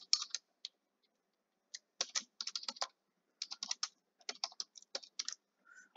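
Computer keyboard typing as code is entered into a Jupyter Notebook cell during a Python machine learning setup: quick, close bursts of clicking keystrokes in uneven runs separated by short pauses, with no talking.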